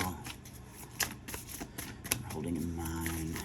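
Crisp riffling of tarot cards being shuffled in several quick bursts, close by, with some soft handling noise between.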